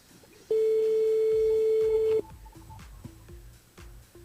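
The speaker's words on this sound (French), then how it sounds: "Ça sonne." A telephone ringing on a radio call-in line: one long, steady electronic ring tone lasting under two seconds, followed by faint low clicks and line noise.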